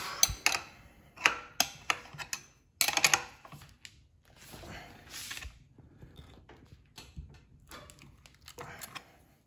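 A nut being unscrewed from a Dualtron Mini scooter wheel, with a string of sharp ratcheting clicks in quick bursts, then quieter scattered metallic ticks and handling noises, all close up and with no talk.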